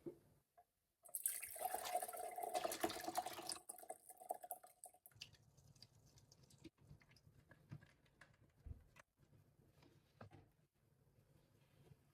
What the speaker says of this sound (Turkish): Sabunlu temiz sularla elimde yıkıyorum ve kurutuyorum.